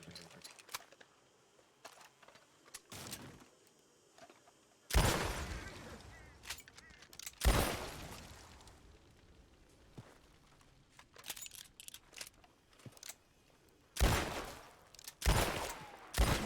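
Sharp, loud gunshots at a lantern in Red Dead Redemption 2 roleplay, fired singly and in quick clusters with long quiet gaps between, several close cracks ringing out over faint background.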